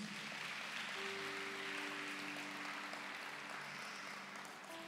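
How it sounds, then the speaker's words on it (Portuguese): A church conference audience claps steadily throughout, soft dense applause with a sustained musical tone underneath. "Você pode dar um forte aplauso a Jesus"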